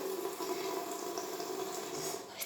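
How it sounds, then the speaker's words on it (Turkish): Water from a tap runs steadily and close while someone washes their face at a sink, a constant hiss with no voices. "hemen yüzümü yıkamak istiyorum"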